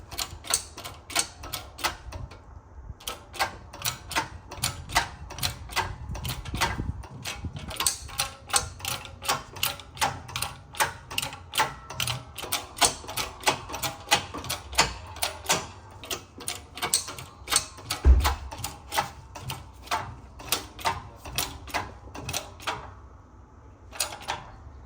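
Wheel studs are pressed into a Honda Fit wheel hub, with a long run of sharp clicks and ratcheting snaps in uneven bursts over a steady mechanical background.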